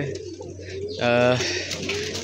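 Pigeons, including a very small young one, give a short close coo lasting about half a second over a low steady background hum.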